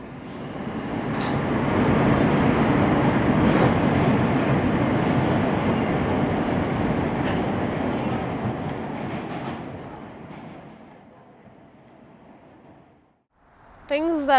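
A New York City subway train rumbles close by with a rolling roar and faint clatter, building then slowly fading away, followed by a short squeal near the end.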